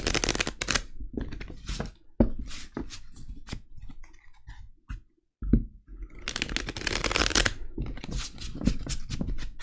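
Oracle cards shuffled and drawn for a six-card tarot-style reading: close, dry riffling and slapping card sounds in irregular bursts, with a brief quiet gap midway and denser shuffling near the end.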